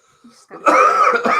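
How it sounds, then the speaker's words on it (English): A single harsh, close cough burst with a raspy throaty quality, preceded by a faint breath. "I got the cough"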